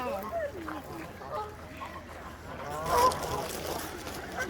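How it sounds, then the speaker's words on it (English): Ducks quack at a lake in Keswick while being fed, calls rising and falling in short bursts close by, with people chatting over them throughout. "Can't come to Keswick and not feed the ducks."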